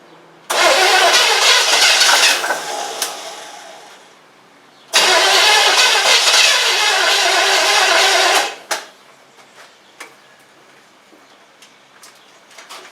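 A 1977 Camaro V8 being primed with gas and cranked for a first fire-up attempt: two long, loud bursts of starter cranking and sputtering engine noise separated by a short pause, then quiet with faint clicks and birds.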